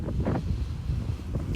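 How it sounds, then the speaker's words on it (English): Wind buffets the microphone at a beach, a continuous low rumble with gusty surges. "I know it may be windy."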